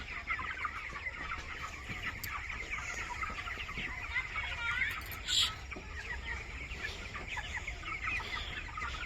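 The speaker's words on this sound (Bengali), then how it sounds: "এই যে দেখো মুরগি" Chickens cluck softly and steadily in a dim coop as evening falls, with a low hum underneath and a brief brighter squawk partway through.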